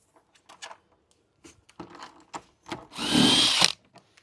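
Short bursts of a power tool spinning out 13mm bolts from a vehicle's tire carrier, one longer whirring burst after several brief clicks and taps, close and fairly quiet.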